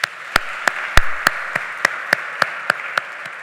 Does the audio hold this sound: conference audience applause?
yes